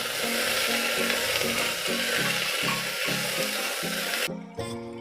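A jackfruit seed dish stirred in a frying pan: steady sizzling and oil crackle with a rhythmic series of scraping strokes from the spatula, each stroke roughly half a second apart, near and loud, ending with a brief pause.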